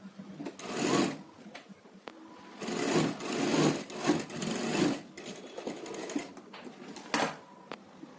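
A sewing machine stitching a folded, finished hem on a garment, running in several uneven bursts of rapid whirring separated by brief pauses and clicks, close and moderately loud, with no voices.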